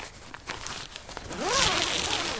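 Zipper on the exterior door of a NorTent Gamme 4 four-season hot tent being pulled open, a quiet rising zip near the end after a few soft fabric rustles and taps.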